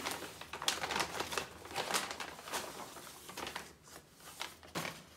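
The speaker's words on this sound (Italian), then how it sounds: "Vediamo se tiriamo fuori dal sacchetto." Hands rummage inside a bag, giving a run of crinkling and rustling bursts with small taps, fairly quiet and close, uneven in rhythm and with no talk.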